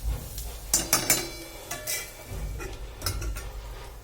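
A spoon scraping and clinking against a pan while a carrot vegetable dish is stirred, several sharp metallic knocks early, then softer scraping strokes over a low background, close up with no talking.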